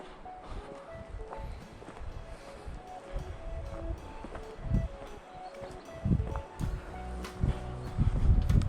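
Wind gusts through a forest during a walk in the woods, heard as low, uneven rumbling bursts that grow stronger toward the end, with faint bird chirps scattered through the background.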